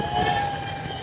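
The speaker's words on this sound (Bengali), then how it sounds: "গাইস অ্যাম্বুলেন্স যাচ্ছে।" An ambulance siren passing along a street, heard as a brief, steady wailing tone over low traffic rumble, with no talking.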